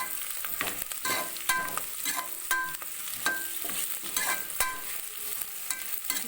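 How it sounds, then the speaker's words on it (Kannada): Ghee rice tempering with bay leaves fries in hot oil, as a spoon scrapes and stirs the pan in repeated strokes over a soft, continuous sizzle, with no talking. "ಒಗ್ಗರಣೆಯಲ್ಲಿ ಚೆನ್ನಾಗಿ ಫ್ರೈ ಮಾಡ್ಕೊತಾ ಇದ್ದೀನಿ."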